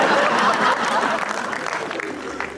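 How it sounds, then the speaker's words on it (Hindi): Scattered applause from a few audience members at a poetry event rises briefly, then thins out under a lively room murmur and faint chuckles, heard from within the hall. "केवल उन 2-4 लोगों ने ताली बजाई है जिनकी बनी है।"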